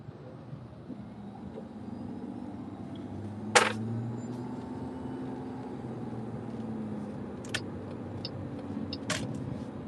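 A car engine runs with a low steady hum and a faint idle drone throughout, broken by a few sharp clicks and ticks, with no talking.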